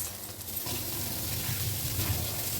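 Chopped garlic and ginger fry in melted butter, giving a steady, close sizzle that crackles softly throughout.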